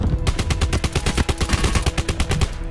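Rapid automatic gunfire in the video game Call of Duty Blackout, a steady stream of close, loud shots firing in a fast regular rhythm for nearly three seconds.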